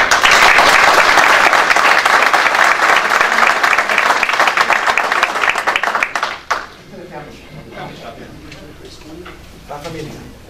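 A city council meeting crowd bursts into loud, sustained applause for several seconds, then it tapers off sharply, leaving quieter scattered talk and room noise.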